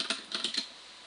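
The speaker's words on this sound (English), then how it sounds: "You're typing" Computer keyboard typing: a short burst of about six quick, crisp key clicks close up, then the rhythm stops, leaving a faint quiet tail.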